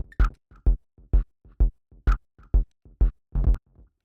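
A kick drum pattern plays through the Shape2 plugin acting at its transients, with about ten punchy, evenly spaced low thumps and a louder doubled hit near the end, dry and alone.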